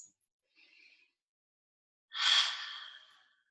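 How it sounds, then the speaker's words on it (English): Deep breathing during a guided exercise lesson, a faint short inhale followed by a louder, long airy exhale close to the microphone, with no talk. "Take a few more deep breaths."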